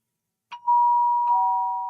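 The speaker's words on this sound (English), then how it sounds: "Sorry, that's my doorbell." A two-tone ding-dong doorbell rings alone in a quiet room, each chime struck once then sustaining and slowly fading, the second tone overlapping the first.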